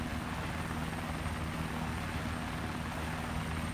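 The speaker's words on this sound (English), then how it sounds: "There's a helicopter over here" Steady, loud drone of a helicopter in the military game Arma 2, a continuous engine and rotor roar with no clear blade chop and no talking.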